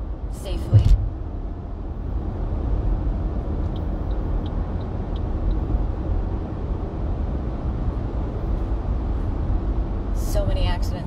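A car drives through heavy road traffic on the way to a hospital. A steady, loud rumble of road and engine noise continues throughout, with a brief knock near the start and a little activity near the end.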